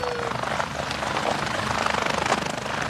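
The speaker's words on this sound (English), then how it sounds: "Alex was taken to the nearest open field, where he was met by a University Air Care helicopter." A University Air Care air ambulance helicopter sounds loud and close in an open field, its rotor thumping rapidly and steadily under a broad engine roar for the whole stretch.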